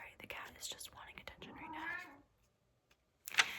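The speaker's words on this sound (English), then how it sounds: "the cat is just wanting attention right now" A house cat gives a soft, drawn-out meow close by, woven among hushed whispering and small clicks, with a sharp faint tap after a quiet pause.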